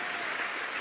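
A brief burst of sustained applause comes from a large live audience at a Kev Adams comedy show, greeting Michel Drucker with dense, even clapping.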